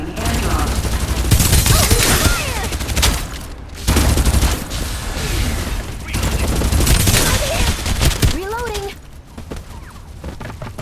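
Video game gunfire crackles in dense bursts and rapid volleys with the occasional boom, loud and nearly continuous, while people talk over the shooting.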